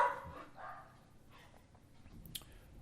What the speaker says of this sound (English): as you sit here and continue listening and hear Bosworth bark in the background